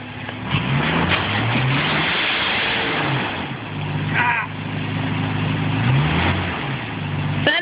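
Off-road vehicle engine revving hard at a waterfall crossing, tires spinning as the driver is guided through; loud, continuous rising and falling engine roar close by, with voices talking over it.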